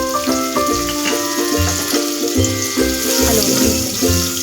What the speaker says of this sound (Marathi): आता हा बारीक चिरलेला कांदा टाकून घ्यायचा.